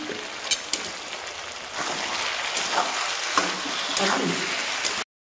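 Potato and pointed gourd being stirred with spices in an oily pan, giving a continuous soft sizzle with scraping stir strokes throughout, close by, before it cuts off abruptly.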